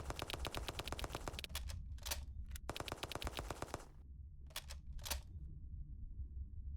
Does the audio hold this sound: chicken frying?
no